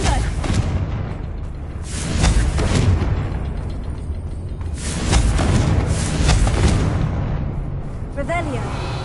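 The Confringo fire spell in Hogwarts Legacy bursts loudly into rumbling explosions and crackling blasts that swell twice. A voice speaks faintly beneath the noise.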